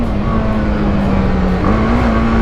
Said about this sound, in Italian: Sentite l'allungo del motore